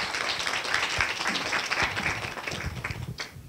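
Audience applause at a university symposium, a dense patter of many hands clapping for a few seconds before tapering off near the end.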